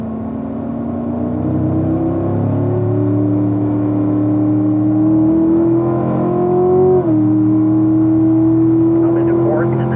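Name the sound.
C7 Stingray Corvette accelerating and shifting gears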